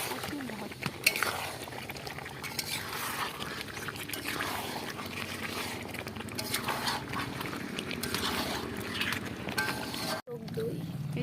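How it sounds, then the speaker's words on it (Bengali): Meat frying with spices for biryani in a pan, a steady sizzle with utensils scraping and clinking against the pot, fairly quiet, with a brief knock near the end. "এই যে মশলার সঙ্গে ভালোভাবে কষিয়ে নেওয়া হচ্ছে।"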